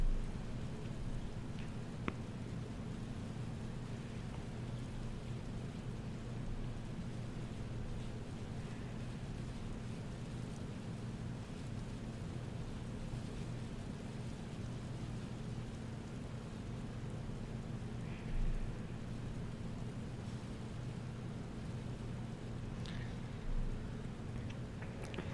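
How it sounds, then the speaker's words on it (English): Faint, steady simulated rain patters in a flight simulator under a low aircraft engine drone, with an occasional soft click or thump and no talking. "I think it's trying to simulate the sounds of the rain."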